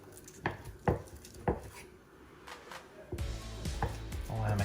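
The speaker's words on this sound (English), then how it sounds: "So I'm just gonna cut them into portions." A knife cuts 36-hour sous vide pork belly into portions on a board, giving three sharp, close thunks with quiet gaps between, followed by duller scraping and handling noises.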